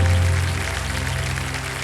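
Studio audience applause on the KBC game show, a steady, dense wash of clapping over background music that stays loud throughout before easing slightly.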